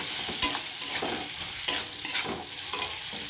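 Ground cumin stirred through a frying pan, giving a steady soft sizzle broken by a few sharp scrapes of the spoon against the pan, with no voices.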